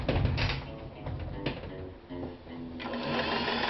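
A vintage Singer 500A sewing machine stitches regular shirting fabric with a steady, rapid mechanical whir and clatter, close and continuous, swelling faster near the end.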